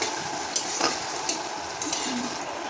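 Onions and tomatoes fry in a pan with a soft, steady sizzle, while a spoon stirs with occasional scraping clicks, heard close and fairly quiet with no talking.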